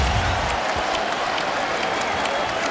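A basketball arena crowd at a Lakers game against the Suns claps in a dense, continuous wash of applause that holds for a few seconds.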